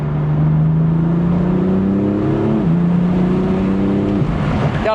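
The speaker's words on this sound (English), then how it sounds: "Got a little bit of turbo flutter on that upshift." A BMW M4 with the S55 turbocharged engine revs loud and close through gear changes, with a brief fluttering turbo chatter at each upshift over the steady engine drone.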